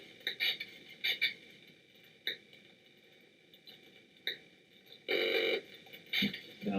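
An EMF meter picking up an Apple iPhone as it powers on gives off electronic clicks, chirps and buzzy bursts, sparse at first and then thicker and louder toward the end.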